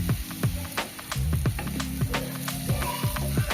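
Pre-fried potatoes tipped onto sizzling turmeric-coated vegetables in a pan for chire polao, a steady close frying hiss broken by repeated scrapes and clanks of a spoon stirring, no voices.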